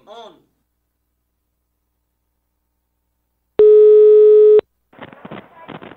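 A telephone line tone sounds once as a steady, loud, electronic beep lasting about a second, set between stretches of silence and followed by brief talking during a phone call.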